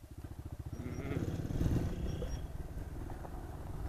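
A Honda MSX125 motorcycle rides along an unpaved mountain forest road, its small engine putting out a close, pulsing putter that rises and falls steadily.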